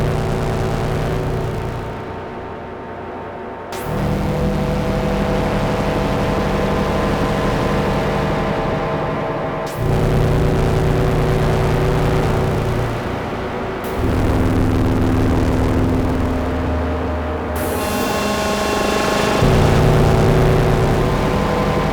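A Cthulhu call voiced on a Make Noise Strega synthesizer, patched with a 0-Coast, gives loud, droning, growling tones that shift in abrupt sections every few seconds, each with changing pitch and harsh, metallic overtones, without talking.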